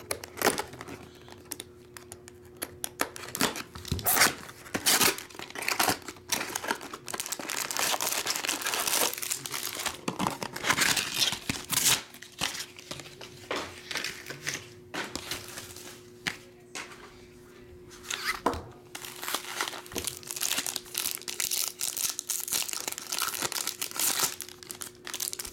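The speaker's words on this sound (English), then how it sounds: "I try to break this stuff down so it recycles flatter." Cardboard card boxes are torn apart and flattened by hand, giving a long run of close, busy crinkling, ripping and tapping with short pauses.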